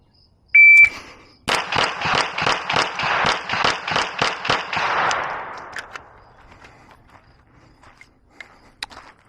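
Pistol fired ten times in quick succession at a shooting range, preceded by a shot timer's high beep; the rapid cracking string ends and trails into quiet with faint scattered noises.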